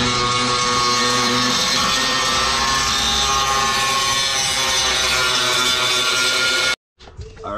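Metal being ground out on an Evo 10 to make room for a Depo intercooler, a loud continuous harsh grinding roar that runs steadily for several seconds, then cuts off abruptly near the end, leaving a few faint clatters.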